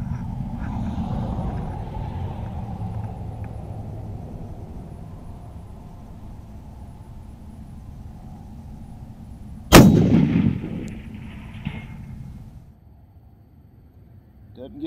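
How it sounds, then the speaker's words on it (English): A single long-range rifle shot fired from the prone position at a 500-yard target cracks loud and sharp near the end after steady outdoor wind noise, then its report rolls away and fades. "We're going to lay down here and shoot at our target at 500 yards."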